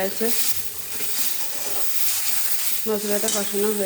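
Spice paste for a bata fish curry is stirred and fried in a pan, giving a steady, close sizzle with scraping strokes, and a voice is briefly heard near the end.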